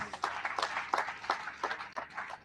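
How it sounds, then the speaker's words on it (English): A room full of people claps for a chairman at a voter-access event, distinct hand claps spread across the whole stretch, moderately loud and fairly close, with no talking over it. "Let's clap for the chairman, please"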